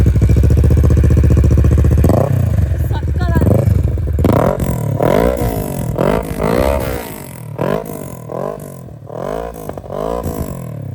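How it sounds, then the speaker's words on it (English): A Kawasaki Ninja 650 motorcycle idles with a steady rumble, then its engine is blipped and revved repeatedly in sharp rising-and-falling bursts, loud and close, during a group super-bike ride to Chikkamagaluru. "ಇವಾಗ Kawasaki ninja 650 ಸೌಂಡ್ನ ಕೇಳುವ ಬನ್ನಿ"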